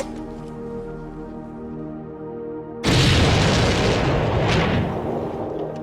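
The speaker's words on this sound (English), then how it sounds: "At midnight, the residents of Hatfield were woken by a massive explosion." A massive wartime pyrotechnic charge explodes at night in Hatfield: quiet hum, then a sudden loud boom that keeps rumbling as it slowly decays.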